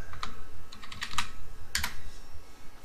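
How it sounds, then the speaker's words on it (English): Someone types a web address on a computer keyboard, two short flurries of crisp clicking keystrokes separated by a pause, close up over a low background hum. "you open up your web browser and you type in TeamViewer."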